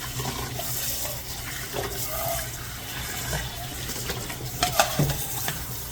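Salted cucumbers are rinsed under running water in a kitchen, a continuous splashing flow with soft handling sounds and a few sharper clatters near the end.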